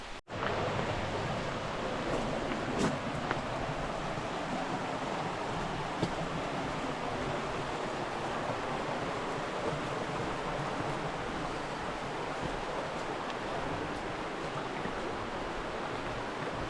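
A river flows steadily along a street in Oregon, a broad, continuous wash of rushing water heard close and unbroken throughout, with no voices.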